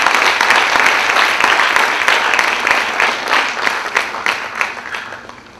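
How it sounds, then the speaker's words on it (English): Students give the faculty a loud, sustained round of applause in a hall, dense clapping from a large crowd that holds steady for several seconds before thinning slightly near the end. "I wanted to give a big round of applause to the faculty at SSC"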